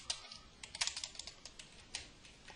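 Computer keyboard keys clatter in quick, irregular bursts of taps, faint and near, with no voice over them.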